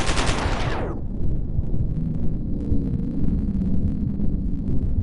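Rapid automatic gunfire from a weapon in the game Chaser, a dense, loud continuous burst that begins with a sharp high-pitched sweep and keeps rattling steadily throughout, with no voices.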